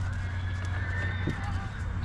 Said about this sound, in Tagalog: Ito mga kabayo sa likod ko.